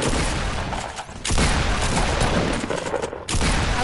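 A minigun in a video game roars in a continuous, dense burst of rapid gunfire, loud and sustained with only brief dips.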